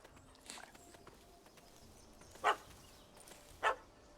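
Two short, sharp dog barks from a puppy in The Witcher 3, spaced about a second apart and standing out above a quiet game ambience.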